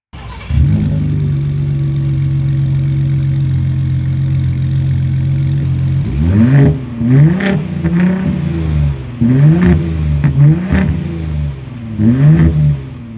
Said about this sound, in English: we have those two huge exhausts right in the back. Let's hear how they sound.